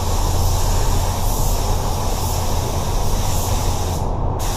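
A spray gun lays a drop coat of three-stage pearl white paint onto a car bumper, giving a loud, continuous close hiss that cuts off abruptly near the end.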